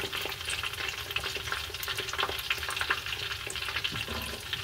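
Shrimp tempura deep frying in hot oil, a steady dense crackle and sizzle with sharp pops scattered throughout, close and continuous with no talking.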